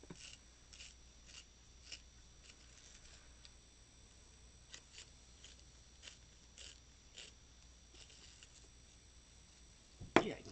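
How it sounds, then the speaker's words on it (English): Coloured pencil being sharpened in a sharpener with a dull blade: faint, quiet, irregular gritty scraping clicks repeated through the clip, then one louder crunch near the end, with no voices. "Yeah, definitely need to change the blade in that sharpener."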